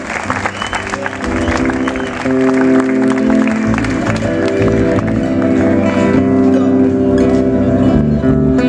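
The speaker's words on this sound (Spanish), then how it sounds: "Le damos un aplauso más fuerte a Marta" An audience applauds for a nervous singer named Marta at an evening performance of guaranias and polkas, steady clapping that runs the whole stretch while sustained musical tones hum underneath.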